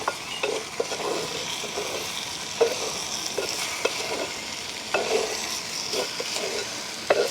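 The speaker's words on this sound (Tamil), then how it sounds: "தேவையான அளவு உப்பு நாங்கள் சேர்த்துக்கொள்வோம் இது நல்ல வடிவாக கலந்துக்கொள்வோம்" Mango curry being stirred with salt in a pot, a low sizzle under repeated scraping and light clinks of a spoon against the metal, continuing steadily with no speech.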